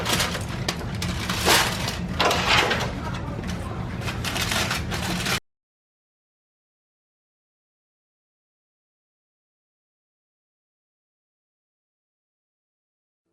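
Foil crinkles and rustles as it is peeled off honey BBQ spare ribs fresh from the grill, a close, continuous crackling and scraping for about five seconds before it falls silent.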